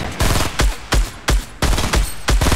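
Gunfire in Fortnite comes as six loud, close, evenly spaced bursts of rapid shots, each a few tenths of a second long, with brief gaps between.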